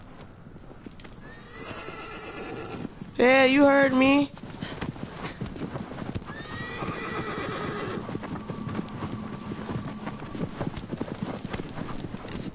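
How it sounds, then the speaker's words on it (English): Hooves clip-clop in a steady walking rhythm in the video game Shadow of the Colossus, broken by a loud, shrill horse neigh and a second whinny, with someone talking throughout. "This is the dumbest horse I've ever seen."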